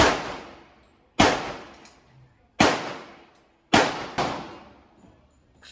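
A Canik MC9L pistol fires several sharp, loud single gunshots at irregular intervals about a second apart. Each crack is followed by a long ringing, echoing decay into near silence.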